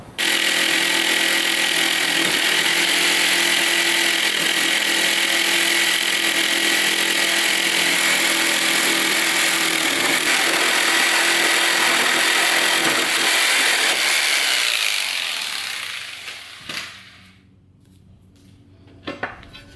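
A power saw cuts through aluminum sheet for a TIG-welded oil pan on a 5.3-swapped Nissan 350Z, a loud continuous high-pitched grinding whine that runs steadily for about fifteen seconds, then cuts off and leaves near silence with a few faint clinks.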